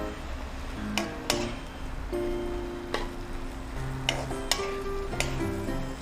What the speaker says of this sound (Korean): 한 숟가락 넣고 이렇게 좀 볶아요